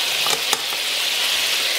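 Yellow croaker fish laid into a hot pan, giving a loud, bright, steady frying hiss up close with a couple of sharp crackles near the start.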